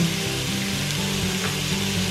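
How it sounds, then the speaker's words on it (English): Loud, continuous sizzling of food frying in an Instant Pot for chicken noodle soup, a steady crackling hiss with faint scraping and clinks underneath. "As y'all can see, it's sizzle, sizzle, sizzle."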